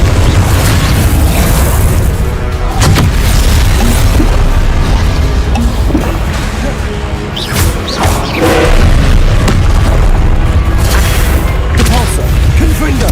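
Confringo and Repulso spell blasts in Hogwarts Legacy go off as loud, repeated booms and bursts in quick succession over a dense, continuous game soundscape.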